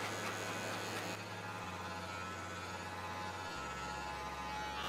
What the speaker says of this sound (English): starting with my Cordless Magic Clip with my lever closed, bringing up my guide,